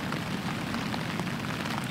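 Steady rain drumming on a tent during a long hike on the Fjällräven Classic trek in Sweden, a dense continuous patter with scattered louder drops and no voices.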